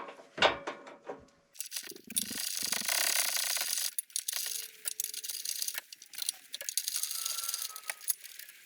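A hand ratchet works on 12mm bolts on a first-generation Toyota Sequoia front bumper, giving quiet clicking and rubbing mechanical bursts with short pauses between them.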